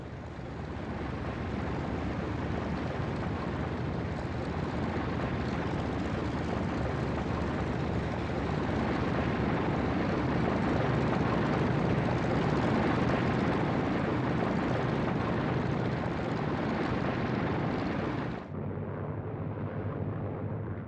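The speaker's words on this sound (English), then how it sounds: "it took almost 3 hours for LeMay's entire force of B-29s to get airborne" Heavy, steady propeller-engine drone of B-29 bombers, loud and continuous for the whole stretch, dropping to a quieter rumble near the end.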